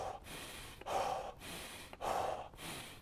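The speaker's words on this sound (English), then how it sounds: "So what do you gotta do? Tactical breathing." A man demonstrates tactical deep breathing for self-defense: two slow cycles of close, audible inhales and long exhales with brief pauses between, breathy and alone without talk.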